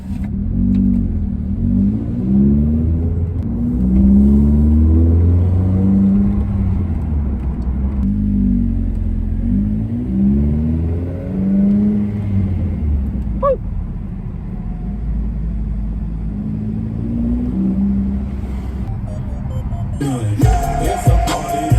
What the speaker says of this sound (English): me sitting in traffic with a loud exhaust